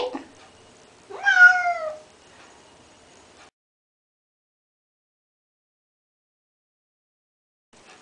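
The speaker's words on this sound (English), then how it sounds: "Meowing really loud like I'm killing her." A single loud, drawn-out cat meow close by during a bath, rising then falling, followed by near silence.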